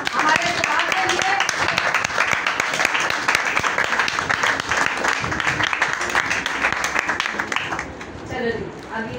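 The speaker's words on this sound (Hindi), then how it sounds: "जोरदार ताली बजाइए आप हमारे खुदा के लिए" A church congregation claps loudly in praise during a Hindi-language worship service, rapid dense applause filling the room for several seconds before thinning near the end, with voices audible underneath.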